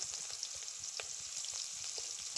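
Chopped onions frying in hot mustard oil, a steady close crackling sizzle with scattered sharper pops throughout and no voices.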